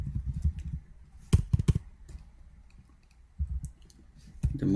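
Someone typing an instance name on a computer keyboard, producing close, crisp key clicks in short irregular bursts with brief pauses between them and no speech.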